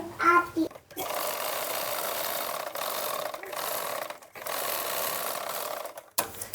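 A sewing machine stitches the side seam of a lined blouse, its needle whirring in several sustained runs broken by short pauses, close and clear, after a brief voice at the start.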